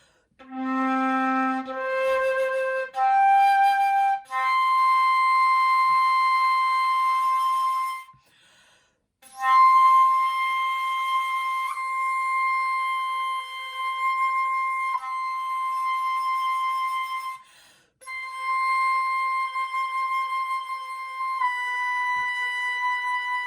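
Clear, pure flute harmonics held steadily at a high pitch, several sustained notes with brief breaths between them, played solo and close.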